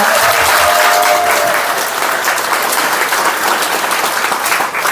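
A large crowd applauds at a political party's founding convention in Incheon, loud, dense and sustained clapping filling the hall without pause.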